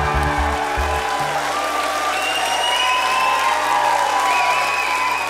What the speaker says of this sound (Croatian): da čujem aplauz jedan za kraj